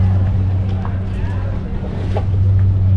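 A steady motorboat engine drones close by on water near Villimalé and Malé, Maldives, low and constant throughout, with faint voices and wind mixed into the background.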